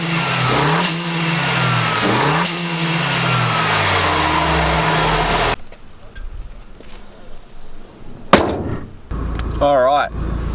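Renault Sport Megane 250RS fitted with a K-TEC induction kit, its engine revving loudly and steadily in a continuous roar with rising and falling pitch sweeps, then dropping off to a quieter idle with a few sharp bursts.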